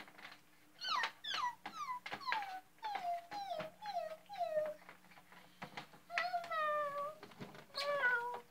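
A cat meows repeatedly while playing with a dog, a series of short rising and falling mews in quick runs, fairly faint, with softer whimpering sounds mixed in.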